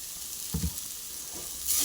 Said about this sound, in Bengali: এবার মশলাগুলো দিয়ে দিলাম, ভালো করে কষিয়ে রান্না হবে আজকে পাঙ্গাস মাছের তরকারি